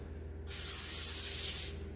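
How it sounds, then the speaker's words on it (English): Cooking spray hisses onto a pan in one steady burst lasting over a second, close and clear against a quiet kitchen hum. "You want to spray that pan just a little bit to start off with."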